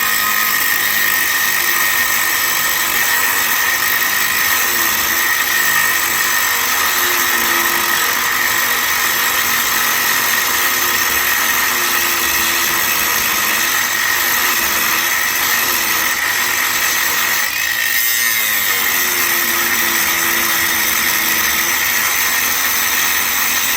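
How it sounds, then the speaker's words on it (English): A Hercules angle grinder grinds into a piece of cast iron, a loud continuous high-pitched whine with a rough grinding edge that holds steady for a long stretch, briefly shifting once near the end. "we'll come out here and we'll grind on this this cast iron and see how it goes"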